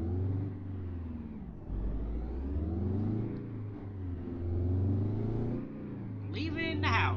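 Peterbilt 352-362 cab-over truck engine in American Truck Simulator, slammed, revving up and down in several rising and falling pulls with a deep droning hum, fairly quiet with talking over it.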